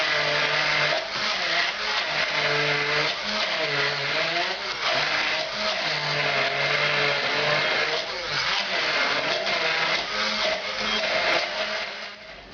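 Blender grinding onion and shallot into a puree, a loud continuous motor whir with shifting pitch as the contents churn, running steadily throughout.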